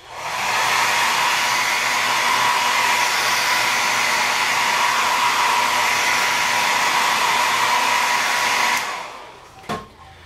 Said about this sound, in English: we're going to use the hair dryer, just a simple hair dryer